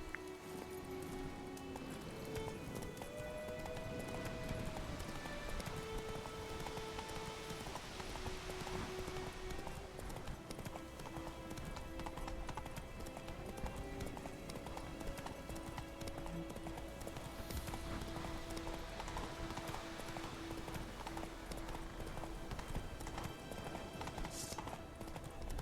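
Hooves of the horse Roach clip-clop at a steady gallop in the Witcher 3 video game, a continuous rhythmic patter under a layer of game music and ambient noise, with no talk.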